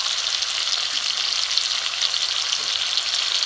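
Turmeric and chilli powder frying in a pan for a mouri potol (fennel pointed gourd) dish, giving a steady, close, even sizzle with no pauses and no voices.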